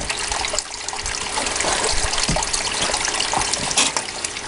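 Water rushing through a gold sluice box used for cleaning up concentrates, a steady close trickling and gushing flow with small splashes, with no talking.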